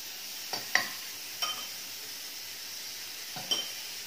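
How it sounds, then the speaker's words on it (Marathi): Masala pav on a hot pan spread with garlic butter, a low steady sizzle close by with a few soft clinks and scrapes of a utensil, no talk. "इथे पॅन मी थोडासा गरम केलेला आहे, त्यामध्ये हे उरलेलं गार्लिक बटर थोडंसं पुन्हा पसरवते."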